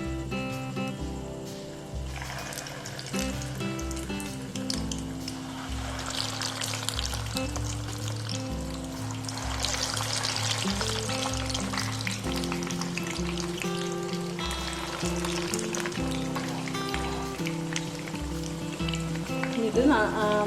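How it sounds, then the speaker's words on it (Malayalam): Cassava vada (kappa vada) pieces dropped into very hot oil give a continuous crackling sizzle. It runs throughout beneath prominent tonal background sound and voices. "നല്ല ചൂടായിട്ടുള്ള എണ്ണയ്ക്ക് നമുക്കിത് ഓരോന്ന് ഇട്ട് കൊടുക്കാം"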